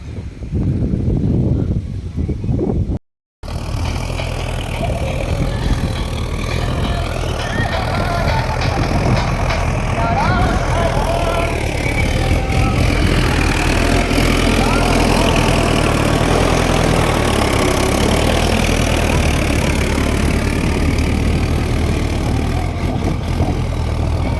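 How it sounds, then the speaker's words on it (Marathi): A tractor engine runs steadily in a pea farm field, a loud, constant low rumble at idle that continues throughout with no pauses. "या ठिकाणी ट्रॅक्टरी चालू आहे"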